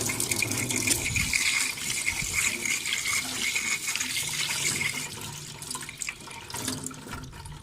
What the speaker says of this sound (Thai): ล้างน้ำนะคะ ล้างด้วยน้ำยาล้างมือ อีกรอบหนึ่งนะคะ